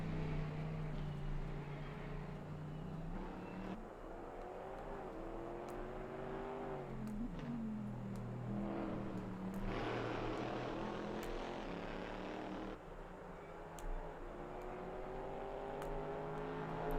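A Corvette racing car in a video game accelerates flat out down the main straight at Fuji, its engine a steady loud drone rising in pitch through the gears, with a brief dip between shifts.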